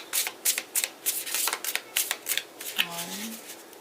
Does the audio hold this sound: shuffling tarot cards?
yes